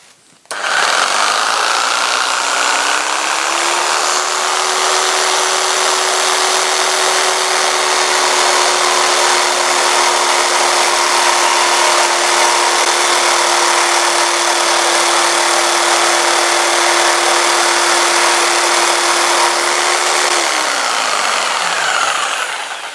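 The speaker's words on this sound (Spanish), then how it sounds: "ahora vamos a hacer un corte transversal aquí en este trozo" A jigsaw makes a cross cut through a piece of wood, its motor whining up and holding a steady loud buzz for about seventeen seconds before winding down, heard up close with no talk.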